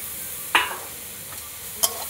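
Grated beetroot and carrot fry in ghee in a pan for halwa, a gentle steady sizzle with two quick, sharp spatula scrapes, close and alone without any talking.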